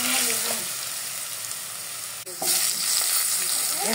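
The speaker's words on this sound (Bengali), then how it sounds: "আলুটা ভালো করে ভাজতে হবে।" Potatoes fry in a pan with whole spices, giving a loud, steady hiss that stays close and constant, with a brief dip midway before the sizzle surges back.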